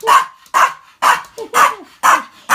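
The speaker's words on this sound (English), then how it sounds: "There she's barking right now." A Pomeranian barks sharply six times in a quick, regular run, loud and close, each yap short and bright with no other sound between.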